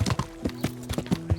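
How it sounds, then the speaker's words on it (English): Horse hooves clip-clop at a brisk, regular trot in the medieval game Kingdom Come Deliverance, a string of close, crisp knocks with faint tonal background sound, no voices. "We can ride the horse now."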